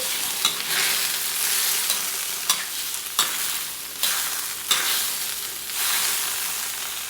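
Salted, water-thinned shrimp broth for spicy shrimp silog stirred in a pan, a continuous close bubbling sizzle punctuated by a few sharp utensil clacks against the pan.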